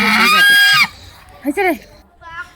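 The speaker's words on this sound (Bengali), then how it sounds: "এই যে দেখেন রাজহাঁস আমাদের চলে যাচ্ছে" A domestic goose lets out a loud, nasal honk, then two shorter honking calls after a brief gap, all close by.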